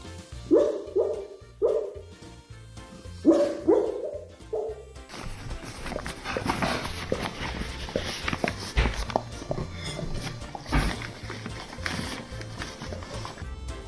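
A dog barks in a run of several sharp, close barks, then the sound turns to busy, rustling movement and low background noise with no more clear barking.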